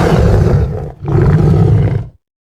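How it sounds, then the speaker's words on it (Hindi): A lion gives a loud, close roar from its cave: two heavy, rumbling bursts split by a short break, with no voices over it. "अचानक गार से शेर की जोरदार धाड़ सुनाई दी।"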